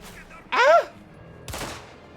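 In the Indiana Jones and the Great Circle video game, a sharp shouted cry rings out, followed by a single loud burst of gunfire that fades quickly.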